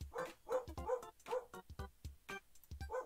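Several dogs bark in repeated bursts, loud and close, with short gaps between the volleys and no talking over them.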